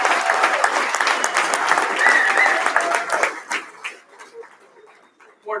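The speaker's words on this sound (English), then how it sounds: "Let's give him a great round of applause." A large dinner crowd at a high school athletics hall of fame event applauds a longtime club president, loud and dense at first, then thinning into scattered claps and fading near the end.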